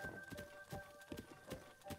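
Horse hooves clopping in a video game, a quick irregular series of soft thuds running under a steady electronic tone from the game's soundtrack.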